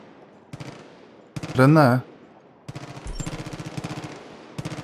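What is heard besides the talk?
gunfire in the video game Far Cry 5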